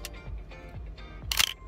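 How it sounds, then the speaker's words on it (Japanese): A Contax RTS film SLR camera fires its shutter, with a few soft mechanical clicks and handling sounds, then one sharp, bright shutter snap near the end, heard close and alone. "シャッターの音はね多分ねこれスピーカーマイクが拾う音はねかなり甲高い音で拾っちゃうのかな。"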